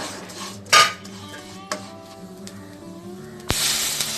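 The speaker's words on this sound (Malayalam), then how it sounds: "ഞാനിതിലോട്ട് നല്ല തിളച്ച വെള്ളം ഒഴിച്ചു കൊടുക്കുന്നുണ്ട്" Boiling water is poured onto roasted semiya in a pan for payasam; metal utensils clink and scrape first, then a sudden hissing rush of water bursts in near the end.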